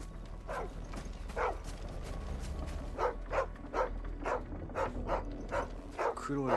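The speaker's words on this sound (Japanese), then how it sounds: "犬の声。" A dog in Final Fantasy XVI gives a series of sharp, fairly close barks, about eight in an uneven rhythm, over a low ambient hum, with a voice starting at the very end.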